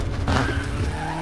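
A rally car in the WRC 5 video game slides across ice, a steady engine roar with a brief scraping skid swell near the start, loud and continuous throughout.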